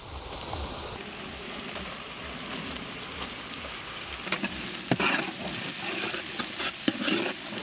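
Curry leaves and green chillies sizzle with onions in hot oil for an eel fish curry, a steady crackling fry with a sudden burst as they go in and light stirring clinks.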